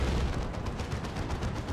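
Heavy cannon fire in Dawn of War 2 booms amid a constant rumble of battle, with quick repeated blasts layered over one another, loud and dense, no voices.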